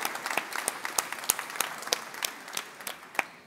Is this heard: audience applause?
yes